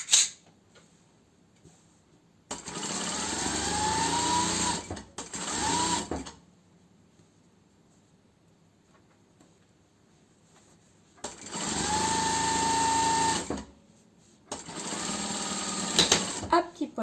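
Sewing machine stitching a snood along its length in a beginner sewing session, several fast buzzing runs of a few seconds each, separated by quiet pauses, close and clear.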